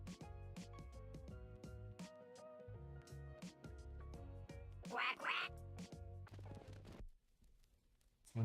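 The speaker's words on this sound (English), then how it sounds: "It says quack, quack." Cartoonish duck quacks rise out of a busy, tonal, music-like backdrop in a dense run of repeated bursts, with a brighter cluster near the middle before things thin out toward the end.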